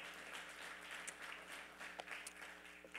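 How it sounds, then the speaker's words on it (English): Quiet, distant hand clapping of praise from a church congregation, soft and steady for a few seconds with a couple of sharper claps standing out. "Give God a good hand clap of praise."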